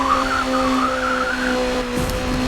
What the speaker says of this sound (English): Let's see if I drift around this corner.